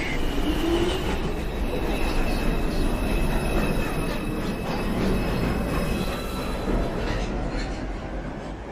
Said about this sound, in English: Express 2 train. Approaching the station, please stand away from the platform edge.